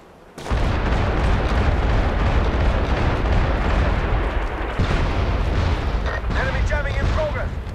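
An artillery fire mission strike in the video game MAG comes as a dense rolling barrage of explosions and booms, loud and continuous for several seconds, with faint voices mixed in.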